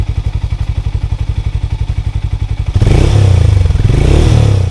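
A Hero Mavrick 440 motorcycle exhaust thumps in a steady, rapid idle pulse, then the engine revs up into a louder, rougher and fuller roar that holds to the end, close by with no talking.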